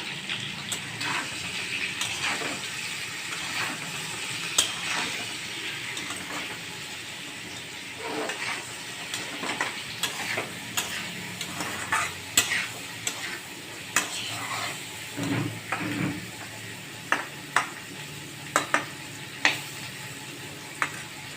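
Cabbage is stir-fried in oil with turmeric and salt in a home kitchen, a soft continuous sizzle broken by frequent sharp scrapes and clacks of a spatula against the pan, with no voices.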